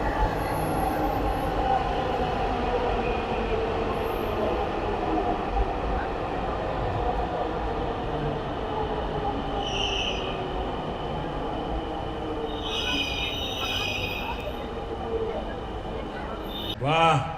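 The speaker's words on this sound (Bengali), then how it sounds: "A few moments later metro চলে আসছে" A metro train pulls into a station with a deep, steady rumble, squealing wheels and brake hiss building near the end, while people talk nearby.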